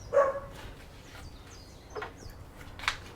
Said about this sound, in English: We got the dogs going off.